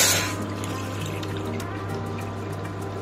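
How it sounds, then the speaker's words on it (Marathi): Water is poured into a cooking pot for jowar flour ambil soup. A short splashing fill is heard up close over a steady low hum, with faint drips afterward. "यामध्ये आपण पाणी घालू"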